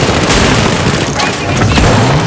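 Rapid grenade-launcher explosions from an MGL32 in the game The Finals, loud, dense booms stacked one after another over a chaotic firefight mix.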